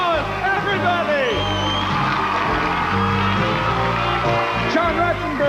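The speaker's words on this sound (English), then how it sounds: "Let's give them a big round of applause, everybody!" Studio audience cheering and applauding for a sitcom cast, loud whoops and shouts over a dense crowd roar, with overlapping excited voices throughout.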